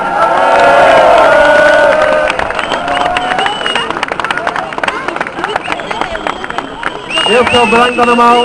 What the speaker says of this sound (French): Alors on peut vraiment les applaudir pour tout le boulot qu'ils ont fait pour organiser tout ça aujourd'hui